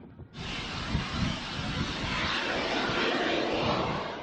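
A Banshee target drone climbs during an air defence training exercise at San Antonio, Zambales. After a quiet start it gives a sudden, loud, rushing engine roar that holds steady and close for several seconds, with no talking.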